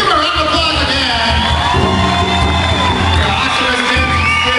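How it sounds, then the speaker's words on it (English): A powwow crowd cheers and whoops loudly after a men's fancy dance special, a dense, continuous wall of voices and applause that stays steady and close throughout. "Let's give a round of applause again."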